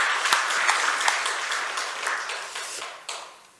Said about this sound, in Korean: 우리 하나님께 영광의 박수를 드리겠습니다.